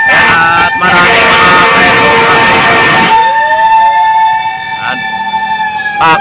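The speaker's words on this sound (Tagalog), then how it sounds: "Ang daming fire truck mga bayan" Fire trucks sounding sirens and horns in traffic near a pier fire, a loud blaring horn blast followed by a steady siren tone with further horn bursts amid street noise.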